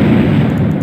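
A heavy artillery explosion rumbles in a Warcraft 3 mod set in 1915, a loud, dense, low roar that fills the whole short moment without a clear start or end.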